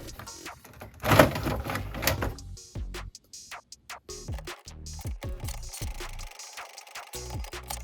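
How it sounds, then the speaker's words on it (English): An office printer feeds colored paper and prints signs, giving a sharp mechanical burst followed by a series of clicks, whirs and brief shuffling noises, close and moderately loud with no talking. "Here we see the printer printing out each of the signs on a different color of paper."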